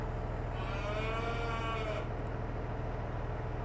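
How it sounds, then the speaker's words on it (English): A cow moos in Farming Simulator 22, one long drawn-out low call lasting about a second and a half over a steady droning engine hum, then only the hum continues. "Okay, there's a nice mooing sound,"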